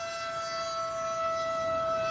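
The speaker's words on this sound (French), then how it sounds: "on connaît bien les plaintes des sirènes" Tornado warning sirens in Dallas County hold a steady, sustained wail across the whole stretch, a loud, even tone with no voices over it.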